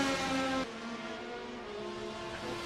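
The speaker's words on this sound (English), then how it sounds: "he does a quick burnout to warm up the compound tire that he's on, the C3" A race car on C3 compound tires does a quick burnout to warm them, a loud, steady engine drone with tire noise that drops in pitch and intensity after the first half-second and then continues evenly.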